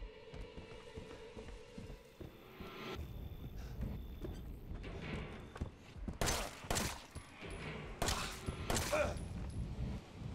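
Rapid bursts of gunfire from the survival horror game Resident Evil 7, several sharp shots in quick succession over a busy, rumbling game soundscape, loud and close with no speech.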